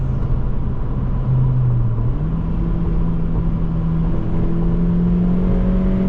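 A 2025 Honda Civic Si engine revving high on a backroad drive, a steady close droning whir that climbs gently in pitch and holds there without a break.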